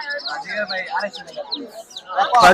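Budgerigars chirp and chatter busily in a flock at a bird market, overlapping quick tweets close by, with people talking in the background.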